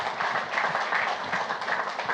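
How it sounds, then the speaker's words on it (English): Steady audience applause at a pub talk held in a brewery, many hands clapping continuously and evenly throughout at moderate loudness with no pauses. "How about a round of applause for our friend Eric?"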